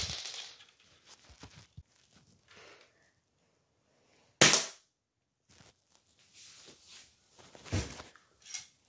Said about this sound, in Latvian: Davai tev vēl viens šāviens